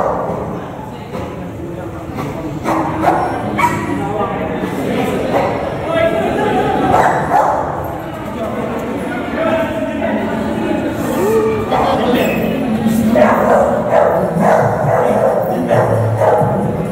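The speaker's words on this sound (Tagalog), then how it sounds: "hawak niya yung aso ni John Paul" An American bully dog barks intermittently during a tug-of-war match against a pit bull, the barks partly buried under steady overlapping talk and background crowd noise throughout.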